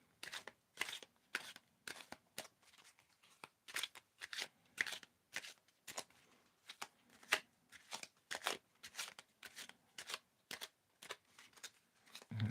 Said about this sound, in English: Can tell me when to stop shuffling, Christina